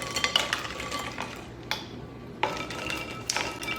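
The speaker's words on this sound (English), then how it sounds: "Stir briefly." Ice cubes in cold water are stirred briefly in a bowl, producing a few scattered clinks and knocks against the sides over a quiet background.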